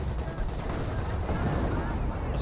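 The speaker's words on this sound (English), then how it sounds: "25 pounder now engaging somewhere" A 25-pounder artillery gun firing in the Company of Heroes war strategy game: dense, continuous gunfire and booming blasts layered into a loud, steady barrage with no gaps.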